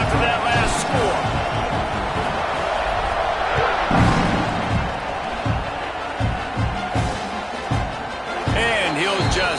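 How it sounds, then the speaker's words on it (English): A football stadium crowd at an Oklahoma game buzzes loudly and steadily after a score, a dense roar of many voices with swells and scattered shouts, while a commentator-like voice talks over it. "this crowd is buzzing after that last score"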